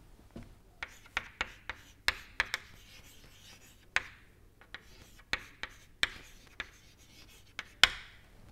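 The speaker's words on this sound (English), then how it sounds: "So let me write it somewhere here." Chalk tapping and scraping across a board during an engineering lecture on control volume mass and energy balance, in irregular short strokes with quiet pauses between, close and fairly faint, with no talking.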